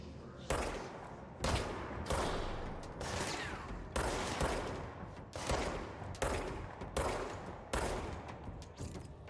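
Enemy gunfire in the Control video game: a series of sharp, loud shots repeating roughly every second, each a hard broadband crack with a trailing roll, heard alone.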